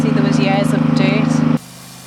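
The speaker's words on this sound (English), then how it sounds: "I really enjoy doing the jet washing" A jet washer blasts years of caked dirt off old paving stones, giving a steady hissing spray under a voice before it suddenly cuts out.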